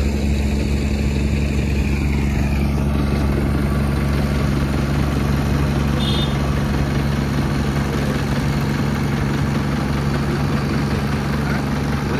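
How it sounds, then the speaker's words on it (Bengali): Small boat engine running steadily at a river crossing without a bridge, a loud, continuous low droning chug close by with no change in pace, no voices over it. "এইটা মেন ছোট নৌকাটা ইঞ্জিন"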